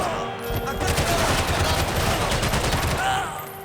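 A sustained volley of gunfire in Max Payne 3: loud, close, overlapping shots forming a continuous roar for several seconds before tapering off, with a voice briefly heard.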